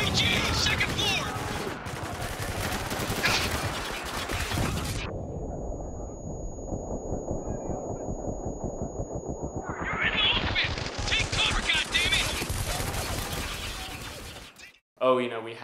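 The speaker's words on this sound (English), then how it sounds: "we have the M249 light machine gun" M249 light machine gun firing in Spec Ops: The Line, with loud sustained bursts of automatic fire, a pause while a high tone rings, then another long burst, ending with a sharp click.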